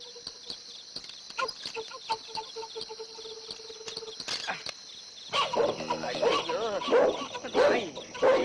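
Dog barking in short, repeated bursts over a steady chirp of crickets and insects in a Tamil comedy scene, followed by louder, agitated talking.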